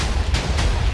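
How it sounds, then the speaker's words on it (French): A TNT explosion in the Minecraft video game: a steady, dense low rumble with two soft blasts swelling up across the one-second stretch, loud and continuous with no voice over it. "C'est un peu d'explosion."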